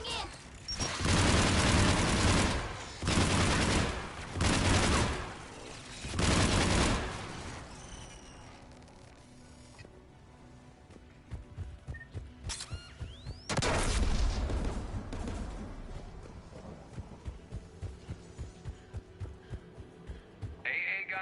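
Anti-aircraft guns firing in the Mass Effect video game: heavy booming bursts of gunfire with pauses between them, then rapid rhythmic shots, loud and close, with talk in places.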